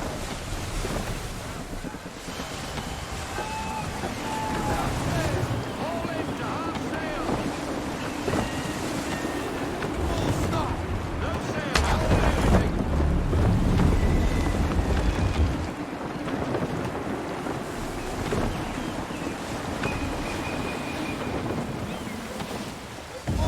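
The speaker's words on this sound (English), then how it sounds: "Gusty winds can be difficult to manage." Gusty wind roars around a sailing ship at sea in Assassin's Creed III, with waves and creaking hull sounds under a steady, loud rush that swells around the middle.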